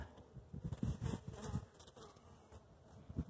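Bees buzz around a small hive during a winter check, a close, wavering hum with individual insects swelling and fading as they pass near.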